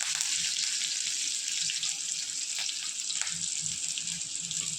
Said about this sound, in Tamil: ஒரே பச்சை மிளகாய் போட்டுக்கிறேன் கொஞ்சம் கருவேப்பிலை போட்டுக்கிறேன் கொஞ்சம் பெருங்காயம் தூள் போட்டுக்கிறேன்